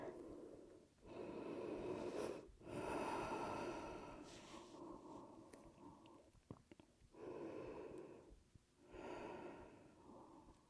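Slow, audible breaths during a yoga child's pose, long airy inhales and exhales in rounds of a few seconds each, quiet and close with no talking.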